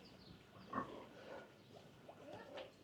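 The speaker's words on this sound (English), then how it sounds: "So there's your pigs." Pigs on a farm where their manure is mixed with rice husk grunt faintly and sporadically, a few soft snorts scattered over a quiet outdoor background.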